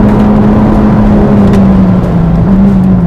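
A McLaren Senna supercar accelerating hard, its engine a loud, close, continuous roar with a rising and wavering tone, heard from inside the car.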